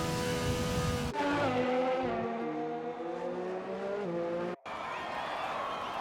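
Open-wheel race car in the F1 2020 racing game at the British Grand Prix: a loud, high engine whine that shifts pitch through gear changes, then cuts out sharply and returns as a rougher roar.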